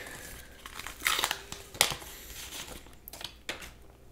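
A paper pack of hockey cards is torn open and handled up close, giving bursts of crinkling and rustling with a few sharper snaps over a quiet background.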